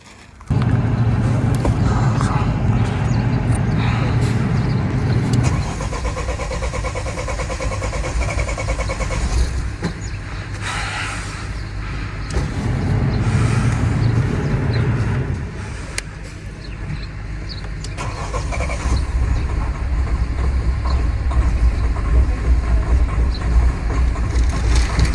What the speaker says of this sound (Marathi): गाडी आपण आता कोल्ड स्टार्ट करून ठेवू कारण थंडी खूप होती.